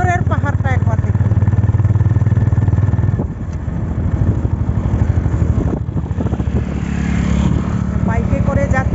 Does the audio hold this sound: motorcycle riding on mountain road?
yes